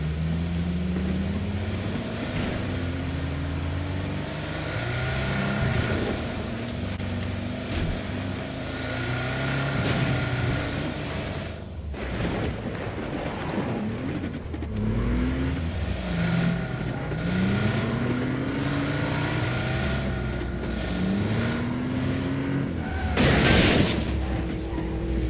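Porsche sports car in PUBG driving with a steady engine drone and rising gear-shift sweeps, plus a sharp bang near the end, under a continuous game mix.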